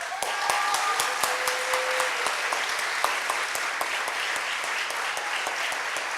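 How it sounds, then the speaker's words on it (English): Applause from the crowd at a faculty and staff awards luncheon for an award winner: steady, dense clapping that holds at an even level throughout, with no talking over it. "please give a round of applause for our winner this year, Julie Thompson"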